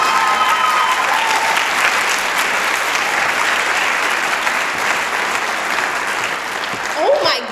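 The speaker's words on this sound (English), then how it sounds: "you guys don't have to clap like that every time" A large audience applauds loudly and continuously at a girls' awards ceremony, dense clapping sustained throughout and easing slightly near the end.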